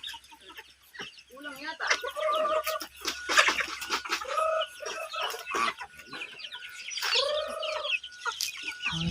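A mixed flock of ducks and geese, many of them white, calls out in a noisy, overlapping clamour of honks and quacks close by, while a person talks briefly over the birds.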